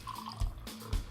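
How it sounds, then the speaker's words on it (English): Kombucha is poured into a glass, giving two short splashy glugs of liquid against a faint background, with no talk. "would you like to pour us some kombucha?"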